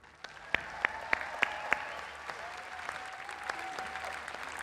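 An audience applauds councillors leaving the stage at a summit opening ceremony: a few sharp, loud claps ring out first, then lighter, scattered clapping continues across a large hall.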